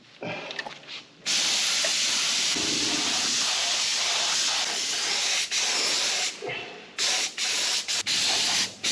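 Spray gun laying another coat of paint on a 1939 Caterpillar D4 crawler tractor in a workshop: a loud, steady hiss running nearly continuously, with a few brief pauses and short bursts near the end.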